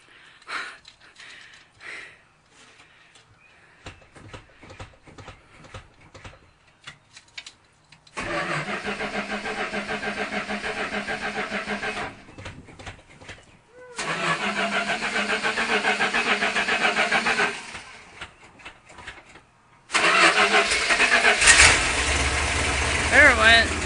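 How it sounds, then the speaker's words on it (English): A 1974 Winnebago motorhome engine cold-starting: scattered cranking bursts and clicks, then repeated rough catches that settle into loud idling runs with gaps between, the final start holding steady; voices are heard briefly. "This is a cold start."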